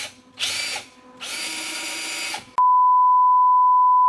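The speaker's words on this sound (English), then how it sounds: "I'm just gonna drill the wall a little bit just to make sure that the anchor can fit in" A power drill bores into a drywall wall to make room for an anchor: two loud whining bursts separated by a short pause, then a steady electronic beep tone, close up with no talking.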